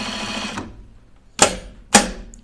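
A stout home sewing machine stitches a high neck sweatshirt, running in a steady continuous drone that stops at the half-second mark, followed by two sharp clunks of the presser foot being released.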